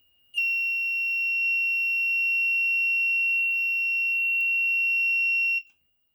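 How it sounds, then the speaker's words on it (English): A piezo buzzer on a plant moisture sensor sounds a steady, shrill electronic tone for about five seconds, loud and unbroken, then cuts off abruptly. "when the plant pot has too much water, this piezo buzzer will actually go off"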